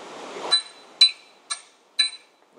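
Four crisp metallic hammer strikes drive a bushing into an engine block at a steady pace, each leaving a short bright clink, alone in a quiet space.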